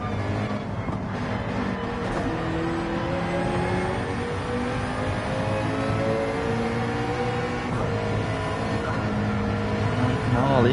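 A GT2 race car in a sim racing league at the Alsace Village circuit, heard from the cockpit: a loud, continuous engine drone that climbs and falls through the gears for the whole stretch.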